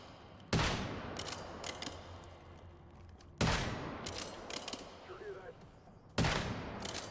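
Gunfire in the video game Once Human: three sharp, loud bursts spaced a few seconds apart, each followed by a decaying rumble and scattered echoing cracks, with faint background noise between shots.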